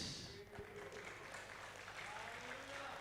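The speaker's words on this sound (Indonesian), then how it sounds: "Tepuk tangan, jangan ragu-ragu kalau mau tepuk tangan yang meriah." A church congregation applauds in a dense, steady clatter at moderate distance, with a voice speaking over the clapping.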